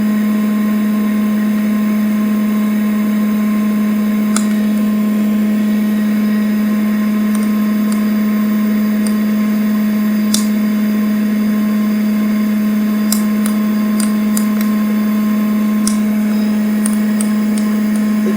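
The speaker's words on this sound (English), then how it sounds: "we're going to push this a little bit into first crack" A popcorn popper coffee roaster drones with a steady electric whir, while coffee beans reaching first crack give sparse, faint, sharp snaps that grow a little more frequent toward the end.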